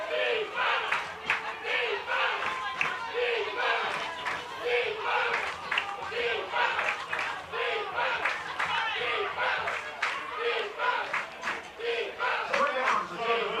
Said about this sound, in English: Crowd trying to get into it. We can hear him in the background.